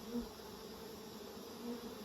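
Honey bees buzz softly around a hive at an apiary in Nymboida, a faint, steady drone of many insects with a couple of brief louder passes close by, no talking.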